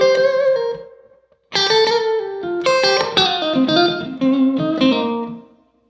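An electric guitar plays a shuffle blues lick, starting on the four chord, F. A held bent note comes first, then after a short pause a busier run of distorted notes with light effects, played alone without talk.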